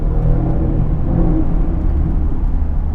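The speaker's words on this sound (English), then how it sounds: "that's an Audi S5. That sounds pretty good." A loud, deep engine rumble roars nearby with a steady throaty tone, an Audi S5 driving past, no voices.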